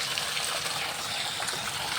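Water gushes steadily out of a water tanker, draining in a strong, continuous hissing rush, close and loud, with no talking.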